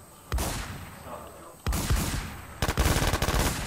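Mossberg shotgun fire in a multiplayer shooter game, three loud separate blasts, the last trailing into rapid overlapping shots, with game ambience between them.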